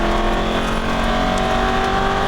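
An Aston Martin V8 Vantage accelerates hard on a Las Vegas race track, its engine roaring loud and close in a steady, rising drone.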